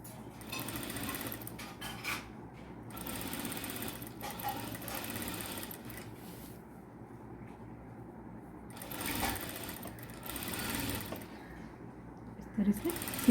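A sewing machine stitches lace onto a dupatta, buzzing in repeated bursts of a few seconds each with quiet gaps between, at moderate, fairly soft volume.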